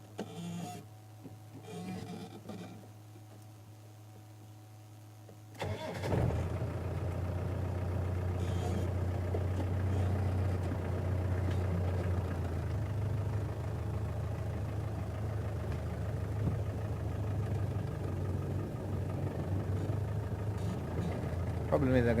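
A safari vehicle's engine crawls along in low range with the revs held down, a steady low droning hum that starts quietly and then settles into a constant, moderately loud rumble.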